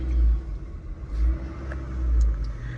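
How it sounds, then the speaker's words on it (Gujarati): A car engine idles and revs in low, rumbling surges near the microphone, swelling three times with no voices over it. "ગાડી કરી દઈએ સ્ટાર્ટ અને નીકળીએ અત્યારે ગામમાં જવા માટે."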